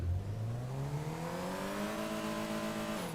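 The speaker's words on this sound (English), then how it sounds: "So listen to this car rev." A BMW-style Ubermacht car engine in GTA Online revs steadily upward, its pitch climbing slowly over a few seconds, loud and close with no talking.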